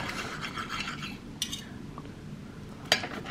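A knife and fork scrape and clink against a plate while food is cut, producing soft, irregular scratching with a couple of light metallic taps under a low room background.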